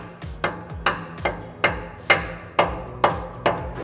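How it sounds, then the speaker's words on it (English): A mallet taps a socket onto a rusty bolt on a Toyota Tacoma exhaust, eight sharp metallic knocks landing in a steady rhythm about half a second apart, close and clear, with nobody talking. "I'm going to use a mallet to tap that socket onto the bolt."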